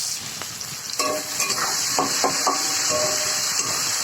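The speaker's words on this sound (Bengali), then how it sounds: "তেলের মধ্যে কালো জিরে একটু তেজপাতা ফোড়নে দিয়ে দিলাম তারপরে পেঁয়াজ কুচিগুলো ছেড়ে দিলাম" Chopped onions sizzle steadily in hot oil with black cumin and bay leaf in a wok, while a spatula stirs and scrapes them in light, irregular knocks.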